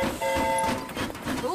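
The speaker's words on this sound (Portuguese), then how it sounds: "O trem do Delfino está chegando a qualquer minuto." Cartoon train pulling into a station, with whistle-like tones and rolling rhythmic clatter running under animated character voices.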